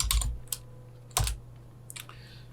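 A few sharp keystrokes on a computer keyboard while writing Android Kotlin code, isolated taps spaced apart over a low steady hum.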